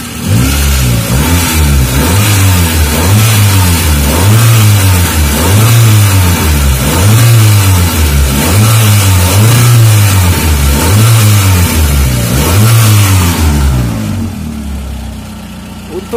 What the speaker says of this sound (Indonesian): kita injak itu langsung nyaut. Jadi mesinnya itu enteng, digas enteng ya, langsung respon.